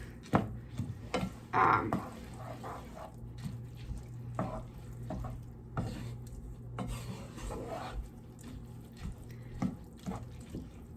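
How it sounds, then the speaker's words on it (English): Risotto being stirred in a pot, with quiet scraping and knocks of a spoon against the pan and faint splashy liquid sounds, intermittent and soft. "You just keep adding liquid and stirring, letting it cook."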